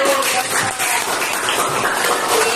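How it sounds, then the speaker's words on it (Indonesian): A classroom of students applauds, a brief, loud and steady patter of many hands clapping close by, with some voices mixed in. "Iya, beri tepuk tangan bagi Praja."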